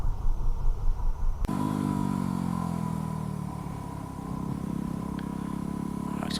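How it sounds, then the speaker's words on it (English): A motorcycle engine roars loud and close as the clutch is released and the throttle held open for a wheelie, its pitch climbing steadily after a rough idle. "engage the clutch with the left hand, hit the throttle, let go of the clutch, wheel comes up"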